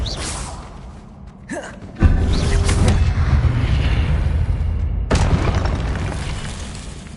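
A Confringo fire spell exploding in Hogwarts Legacy gameplay: a sharp whoosh and pop, then a sudden deep booming blast with rumbling tail, and a second burst a few seconds later.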